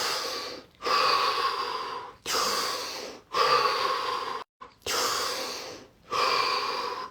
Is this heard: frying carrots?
no